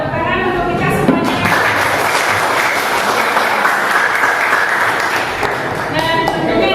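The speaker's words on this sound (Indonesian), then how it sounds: "Tepuk tangan untuk kita semuanya" Loud, dense classroom applause from a group of students, continuous clapping lasting several seconds with some voices and chatter blended in.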